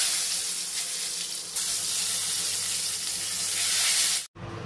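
Eggplant slices fry in hot oil with a loud, steady, crackling sizzle that fills the whole clip. The sound shifts slightly partway through and is abruptly cut near the end.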